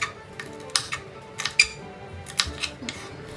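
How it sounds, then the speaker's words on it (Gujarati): A knife cuts capsicum into long strips on a board, producing a string of sharp, irregular taps and clicks, close and clear over a quiet background. "કેપ્સિકમને પણ ગાજરની જેમ જ આપણે લાંબુ આવી રીતે સુધારી નાખવાનું છે"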